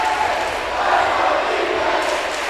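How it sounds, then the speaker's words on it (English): A packed crowd fills a high school gym during a varsity basketball game, a dense, steady roar of voices and cheering that swells slightly midway and holds loud throughout. "we have a filled and packed crowd here tonight, here at Mount Juliet High School"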